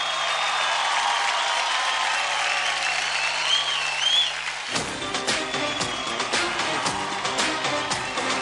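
Audience applause for four finalists of a kids' dance competition show bursts in loudly and fills the space, a dense sustained clatter of clapping after a quieter stretch with faint voices.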